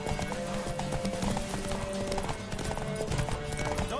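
Horse hooves galloping in Witcher 3 Wild Hunt, a fast steady clip-clop rhythm close and continuous, with faint game music and ambience underneath.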